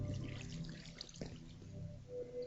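Water in the Minecraft video game flows and trickles softly with a few faint drip-like splashes, quiet and steady throughout, with nobody speaking.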